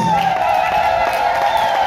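Guests at an African wedding ululate together in a sustained, high, trilling chorus, loud and continuous over crowd noise and cheering.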